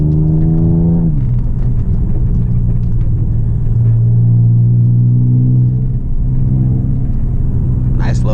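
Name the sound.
car with Eibach lowering springs driving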